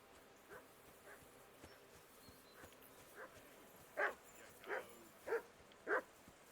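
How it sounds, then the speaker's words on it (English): Dog barking in a video game, faint and distant at first, then four louder barks in a steady rhythm toward the end over a low ambient background. "Whistle at that mutt of yours to stop barking."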